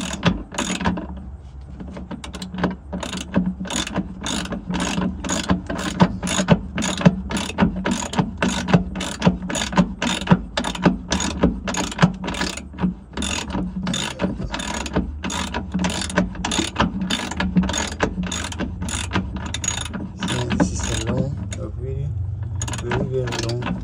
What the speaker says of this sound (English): I just need to tie the bolt all the way in.